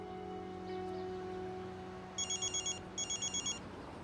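A telephone rings twice in quick trilling bursts, clear but moderate, over a faint low hum with no talking.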